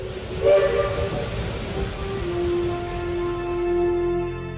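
A steam train whistle sounds as a single prolonged, hissing tonal blast that starts strong and then fades into a steady, breathy drone.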